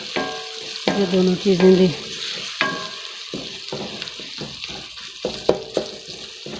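Bay leaves frying in oil in a pan for dhaba-style dal chana, a continuous sizzle with bursts of crackling and clinks of stirring, while a voice speaks briefly.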